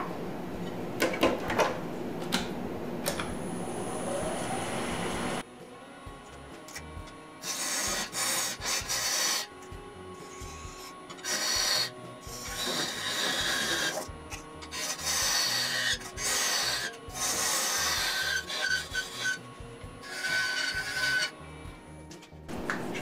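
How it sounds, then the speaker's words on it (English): Wood being cut on a woodturning lathe as a tenon is formed on the smaller end of the blank, giving rough, rasping scraping in repeated bursts separated by brief pauses, close and moderately loud. "first thing I need to do is cut a tenon on this end, this being the smaller end, so that it'll fit in the chuck."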